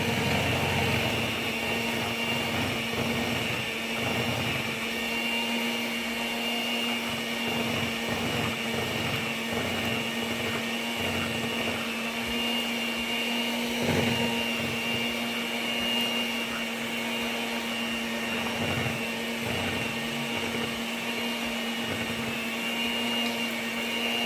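An electric mixer whirs steadily through sweet potato pie ingredients, a continuous close motor drone with a slightly uneven churning texture that never lets up.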